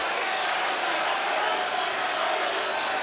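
A boxing crowd bays and roars during the fifth round of a bout, a steady dense wash of many voices at a distance, loud and unbroken.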